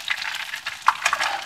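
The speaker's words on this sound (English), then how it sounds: "It's a shame this thing's sizzling so loud." Chicken cutlets sizzle steadily in a hot frying pan, a close crackling hiss with small pops, with no talking.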